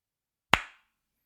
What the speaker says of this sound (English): Go ahead and clap right here